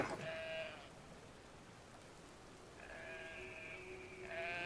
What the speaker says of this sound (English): Look at those sheep. They're gigantic.